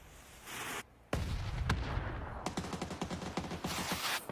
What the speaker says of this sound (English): There is mortars coming in. There is nades coming in.